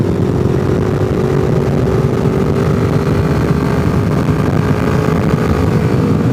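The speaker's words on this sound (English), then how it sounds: "But the exhaust system just sounds great on this bike." Loud, steady exhaust drone from a 2000 Honda VFR800Fi motorcycle while riding, a continuous throaty engine note with wind noise, no talking.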